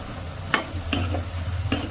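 Chopped spring onion stalks sizzle softly in a pan over a low flame while a spoon stirs them, giving three or four sharp scraping strokes over a low background hum.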